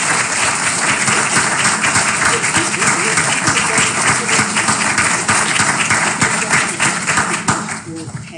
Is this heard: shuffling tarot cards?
no